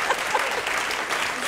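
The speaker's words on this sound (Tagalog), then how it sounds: "Hoy, palakpakan naman namin dyan!" A studio audience on a Filipino talk show applauds in a dense burst of clapping, loud and close, with a voice briefly audible over it.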